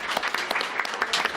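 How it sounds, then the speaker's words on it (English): Audience at a conservation talk on Canyon Lake drought and water management applauding, a dense close burst of clapping that fills the whole brief moment without talk. "If I can get a round of applause for those folks."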